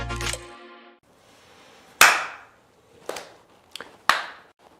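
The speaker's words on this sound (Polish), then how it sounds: "Ja wiem o tym, jakoś potrzebowałem klasnąć." Sharp, loud hand claps mark an edit cut, several of them spaced irregularly over a few seconds in a quiet room, with no talking between them.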